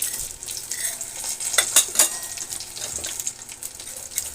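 Green chillies and urad dal fry in oil in a pan, a steady sizzle broken by a few metallic scrapes and clinks of a spoon stirring against the pan.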